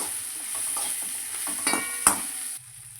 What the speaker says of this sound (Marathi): टोमॅटो टाकल्यामुळे कांदा खोबरं जास्त करपणार नाही असंच हलवत राहणार आहे मी याला थोडा वेळ